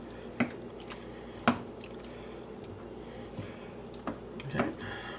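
A flour and water mixture is stirred into shepherd's pie filling in a pot, giving a few soft, wet squishing and scraping sounds spaced apart, fairly quiet and close.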